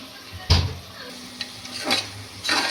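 A spoon stirs chilli powder and garam masala through a pan of chicken biryani masala, giving a few scraping strokes over a faint sizzle, with no talk.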